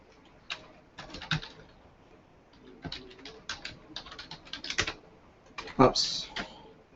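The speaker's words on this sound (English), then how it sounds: "it's never fun typing passwords when you're live on the stream" Fingers type a password on a computer keyboard in scattered bursts of close, crisp key clicks with short pauses between them, while faint background sounds sit underneath.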